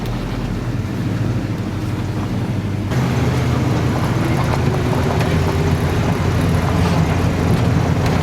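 A restored 1972 Chevrolet C10 truck engine idles steadily nearby under wind and broadband noise. The rumble is continuous and gets slightly louder partway through.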